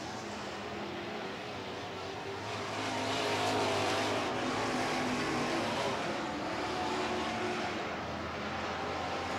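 Stock cars race at night around the Red River Co-op Speedway oval, a dense, loud, continuous engine roar from the pack that swells and eases slightly, with no talk.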